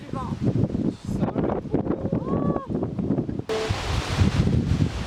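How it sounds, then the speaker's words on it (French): Gusty wind buffets the microphone outdoors in loud, rumbling bursts that continue under a woman's chatter throughout. "Oh là là, il y a du vent"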